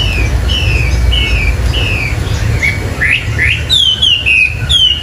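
A caged Chinese hwamei songbird, a Cao Bang–Lang Son bird, sings loud, clear whistled phrases, sliding and rising notes repeated in quick bursts over a steady low background rumble.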